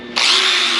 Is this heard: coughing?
no